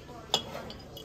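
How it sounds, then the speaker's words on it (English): A single short, bright clink of a glass bottle rings out among kitchen accessories in a Kmart store, heard once against a low, steady background hum. "glass bottle."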